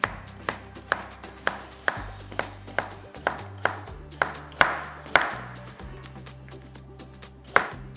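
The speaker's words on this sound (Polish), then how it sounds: "Ale tutaj już drobniej warzywa kroję niż do rosołu." A knife chops vegetables such as celery and onion finely on a board, with sharp, evenly spaced taps close up and a few stronger strikes, and no talking.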